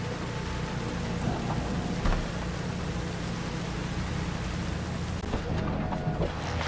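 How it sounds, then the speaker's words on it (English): Steady rain hisses in the game Cyberpunk 2077, a dense continuous wash of drops on surfaces with faint rumbles beneath, alone without talk. "That is liquid, I wouldn't stand out in the rain."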